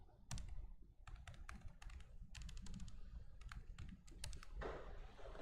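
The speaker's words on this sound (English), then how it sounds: "now let's say I start clicking, click, click, click, click" Quick clicks from a computer mouse or keyboard come in an irregular run of sharp, close taps, a few dozen over several seconds, alone and fairly quiet.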